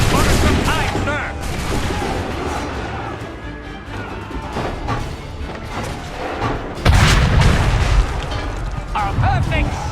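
Musket volleys and booming cannon blasts from an Assassin's Creed III battle, loud and dense, with rolling bursts of gunfire and a heavy boom near the middle, under shouted voices and music.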